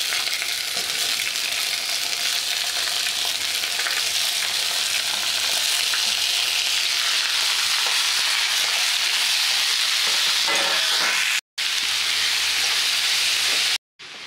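Mixed winter vegetables, brinjal, peas and fenugreek with ginger-garlic paste, sizzling in a pan; a steady, loud, dense frying hiss runs throughout, close up, with a couple of brief dropouts near the end.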